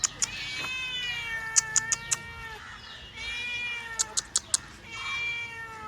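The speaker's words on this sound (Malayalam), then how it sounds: "നല്ല ക്യൂട്ടൊരു പൂച്ചക്കുട്ടി. അയ്യോ ഇത് കരയും ചെയ്യുന്നു." A small kitten meows and cries repeatedly in short, high, wavering calls, close and clear, with a few sharp clicks between them.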